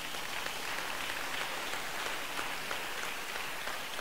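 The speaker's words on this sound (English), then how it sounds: "Clap for Jesus." A church congregation claps together in a dense, sustained wash of applause that stays even and steady throughout, with no voices standing out.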